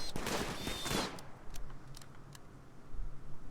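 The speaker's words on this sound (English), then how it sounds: "Are they trying to shoot the boars or Bella?" Colonists firing on boars during a hunt in the colony game Rimworld: a dense burst of gunfire at the start, then scattered sharp shots fading in and out against a busy background.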